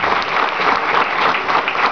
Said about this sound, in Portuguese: Vamos aplaudir o Senhor e dar graças ao Senhor